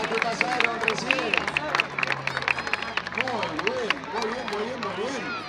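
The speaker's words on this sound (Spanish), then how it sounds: "fuerte aplauso para los gimnastas que pasaron recién." Audience applause greets gymnasts after an artistic gymnastics routine, with scattered claps mixed into lively crowd chatter and overlapping voices throughout.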